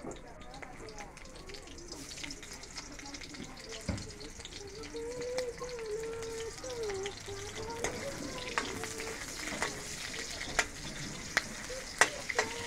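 A ground paste of onion, ginger, garlic, chili, cumin and black pepper fries in a pan with a continuous close sizzle and occasional sharp spoon taps, while a voice speaks over it.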